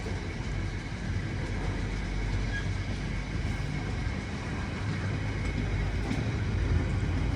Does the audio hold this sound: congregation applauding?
no